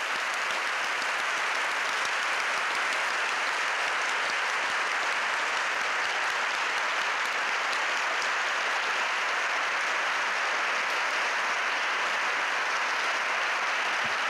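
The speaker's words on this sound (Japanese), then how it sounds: "ぜひぜひ温かい拍手をお願いします" An audience gives warm, dense applause to staff standing up at a closing event, a steady, even wash of clapping that holds at a constant level throughout, with no voices.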